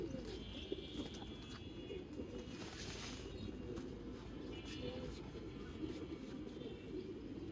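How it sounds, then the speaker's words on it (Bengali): Pigeons, including a female, coo steadily in a loft of tournament pigeons in Mirpur, a low continuous murmur of overlapping calls with no talk. "এই যে একটা মাদি কবুতর।"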